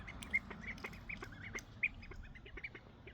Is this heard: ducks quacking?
yes